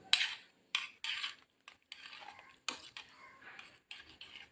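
A spoon stirs a pot of pumpkin and lentil curry slowly, making soft intermittent scrapes and light clinks against the metal, fairly quiet and close, with no talking.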